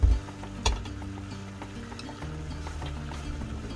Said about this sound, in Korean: 여기다가 배추 포기김치를 조금 섞을게요. 자, 요렇게 섞어서 할게요.